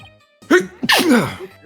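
A single sharp sneeze bursts out close by, followed by a short voiced exhale, with brief quiet before it.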